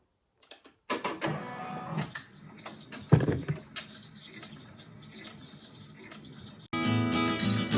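An embroidery machine stitching an acorn decoration ticks and whirs in uneven close bursts, settling into a busy, louder steady run of rapid stitching near the end.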